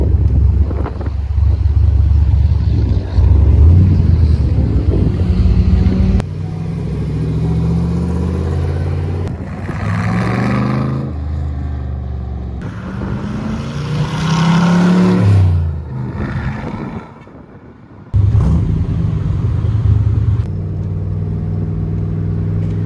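A 1965 Corvette with the L78 396 V8 and K66 transistor ignition drives off, its engine rumbling loudly and steadily with rising and falling revs over gusts of wind noise, with no talking.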